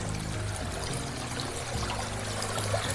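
River water rushing steadily through a woodland canyon, a continuous broadband roar heard close by and alone, with no voices.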